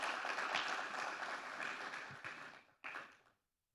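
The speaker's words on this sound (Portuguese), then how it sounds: "Uma salva de palmas para ela" Applause from a church congregation at an evening service in Porto Alegre, a dense wash of many hands clapping at moderate distance, fading down and cutting off after a few seconds.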